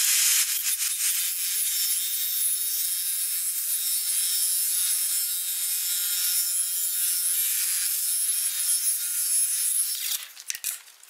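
Table saw cutting a 45 degree edge along a wooden cladding board, a continuous loud hissing rip of blade through wood that holds for about ten seconds before winding down.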